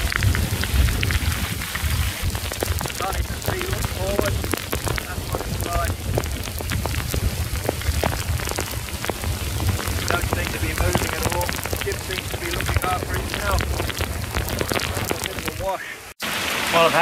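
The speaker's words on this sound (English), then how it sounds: "this is what a Queensland storm's like." A heavy Queensland rainstorm drums steadily on a sailing boat with rumbling thunder, loud and continuous throughout, with the downpour easing briefly near the end.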